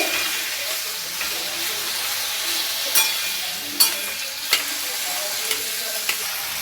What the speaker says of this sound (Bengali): এই টমেটোটাই তেলের মধ্যে দিয়ে দিলাম এই টমেটোটাকে আমি একটু কষবো তেলেতে